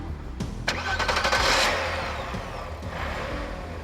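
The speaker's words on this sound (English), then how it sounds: "Mash the gas pedal at just about any speed and this car scoots," A VW GTI VR6 engine revs hard and accelerates, loud and close, its roar rising then easing off, with faint mechanical clatter underneath.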